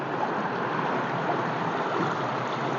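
A strong, deep river current rushes past, a steady close-up wash of churning water with no voices.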